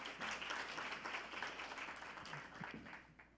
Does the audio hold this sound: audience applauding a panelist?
yes